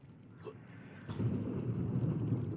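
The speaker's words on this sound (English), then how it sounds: "No, okay, lightning's here." A rolling thunder rumble breaks out after a sharp crack in a Call of Duty Zombies match, swelling into a deep, sustained boom with rain-like hiss beneath it, moderately loud and without speech.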